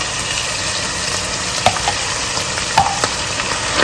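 Tomato paste being stirred into a hot frying pan for rigatoni Bolognese, a close steady sizzle with a couple of sharp utensil knocks against the pan and no talking.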